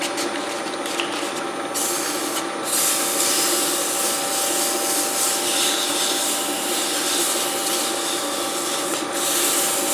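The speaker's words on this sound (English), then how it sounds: "I don't sand beyond 320 with domestic hardwoods" Steady hand sanding of a turned domestic hardwood bowl with 320 grit sandpaper, a continuous loud abrasive rubbing hiss that holds level throughout, close up and with no voices.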